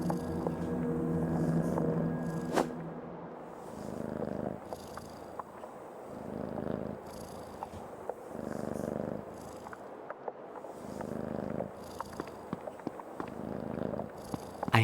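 A cat in the game Creepy Tale 2 purrs in a steady, rhythmic rumble of close, soft breaths, alone without talk, with faint game ambience behind it.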